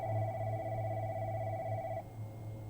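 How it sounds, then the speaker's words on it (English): A telephone ringing in a house basement at night, a steady electronic trill that cuts off after about two seconds, leaving a low background hum. "when the phone went off"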